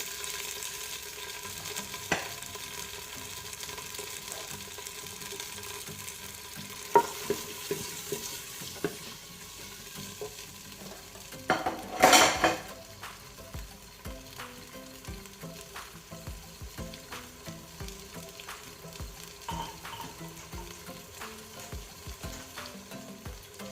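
Liver sizzles steadily in a hot pan as tomatoes and onion are stirred in, with a spatula scraping and clicking at irregular moments and one louder burst of sizzle partway through.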